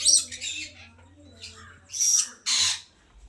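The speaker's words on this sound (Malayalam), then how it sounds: "തത്തയുടെ വെറൈറ്റി തന്നെ ഇതിനകത്ത് കാണാൻ സാധിക്കും." Parrots and lovebirds in a park aviary give several loud, harsh squawks in separate bursts, the last two long and close, with quieter chatter and faint background noise between them.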